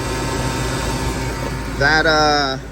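Car air-conditioning compressor spinning near 6,000 RPM with a steady mechanical drone and whine under continuous talking, while a brief tonal whir rises near the end.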